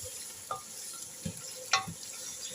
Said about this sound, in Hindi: मसालों को अच्छी तरह हम करेंगे चिकन के साथ फ्राई।